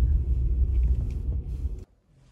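Car engine rumbling low and steady as the car is driven out through a narrow gap, then cutting off abruptly near the end.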